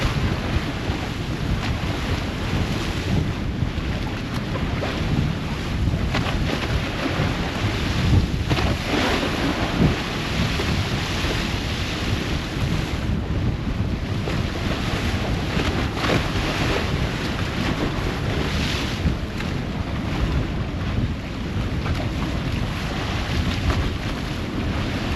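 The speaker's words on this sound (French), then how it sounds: "En plus il y a du vent là." Strong wind and rolling sea surround a sailing catamaran crossing between the Tiputa pass of Rangiroa, a steady loud roar of gusts and breaking waves with no pause, close to the microphone and without speech.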